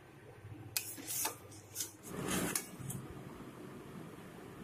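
Bengali-style chicken with yogurt masala is stir-fried for biryani, with a few sharp spatula scrapes and clinks against the pan over a soft background hum, close by and fairly quiet.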